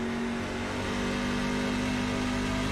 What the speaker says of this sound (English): Listen to the engine here.